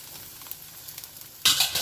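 Egg noodles for lo mein tossed into a hot pan, quiet at first, then a sudden loud burst of sizzling near the end.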